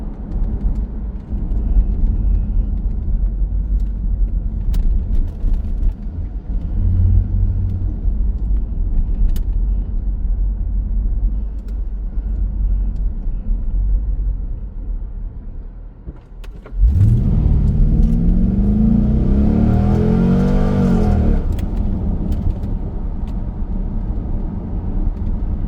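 A 2002 C5 Corvette exhaust rumbling at a low, steady idle, then a strong rev that rises in pitch and falls back over several seconds before settling into the idle rumble again.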